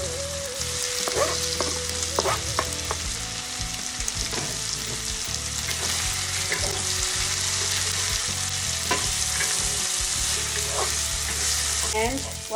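Beef tripe fries in a pan with a continuous loud sizzle and crackle, and scattered clinks and scrapes from stirring run through it over several seconds, with no voices.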